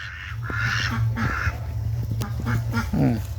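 Pet ducks quacking as they climb out of a pond, several nasal honking calls in quick irregular bursts, close and fairly loud over an outdoor background.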